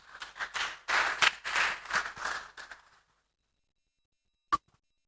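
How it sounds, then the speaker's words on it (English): Audience applause for a woman approaching at an annual general meeting, a few seconds of scattered, uneven clapping that stops abruptly into silence, followed by one lone sharp tap. "Let's applaud Mary Jerop as she approaches."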